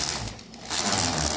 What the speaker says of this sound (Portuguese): vou dar um acabamento na aliança, por dentro